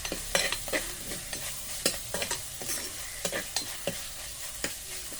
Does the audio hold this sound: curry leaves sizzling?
yes